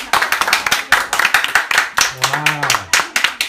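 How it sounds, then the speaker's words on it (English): A crowd claps steadily after a staged Alice in Wonderland production, dense clapping running throughout with voices talking and calling out over it. "Now you may clap."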